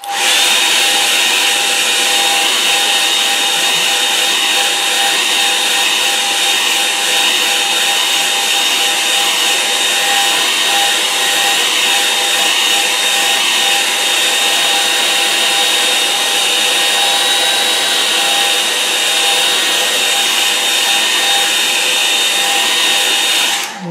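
A hair dryer blows steadily and loudly on a watercolour lake painting to dry it, a continuous close whir that runs unbroken from start to finish with no voices.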